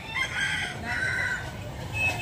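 A rooster offered for sale at a gamecock market in Carbon, Cebu crows in a drawn-out call over steady background crowd noise.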